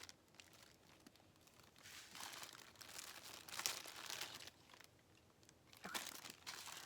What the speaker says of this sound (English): Sorry for all the crinkling.